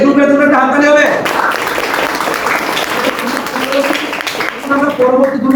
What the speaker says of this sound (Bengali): এই গ্রুপের জন্য একটা হাততালি হবে।